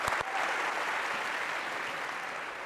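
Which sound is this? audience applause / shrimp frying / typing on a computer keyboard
audience applause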